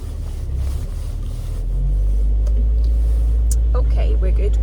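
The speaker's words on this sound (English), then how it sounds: "Oh, there's a tractor." A tractor passing on a wintry road, its low engine rumble swelling from moderate to loud and close as it goes by, with a person talking over it.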